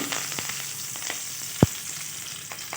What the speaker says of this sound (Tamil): எண்ணெய் சுடானோடனே கடுகு, கடலைப்பருப்பு, உளுந்து சேர்த்து தாளிச்சிக்கலாம்.